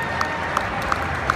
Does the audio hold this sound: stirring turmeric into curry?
no